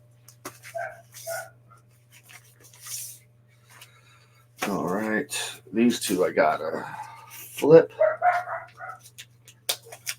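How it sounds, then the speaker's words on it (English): A small dog barks furiously in the distance, a run of sharp, rapid yaps and whines heard faintly behind a person talking nearby. "Can you guys hear that little dog going ballistic?"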